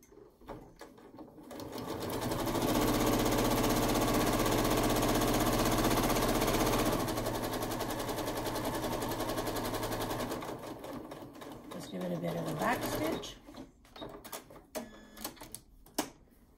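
A home sewing machine stitches quilt-as-you-go rows for a barn quilt, running in a steady, fast, loud mechanical whir for several seconds before slowing and stopping, followed by scattered clicks and handling noises.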